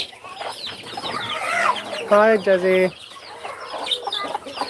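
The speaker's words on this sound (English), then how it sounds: "These Rhode Island Reds look hungry too." Hungry Rhode Island Red chickens cluck close by in repeated bursts, with one louder, drawn-out squawk in the middle and a brief spoken greeting over them.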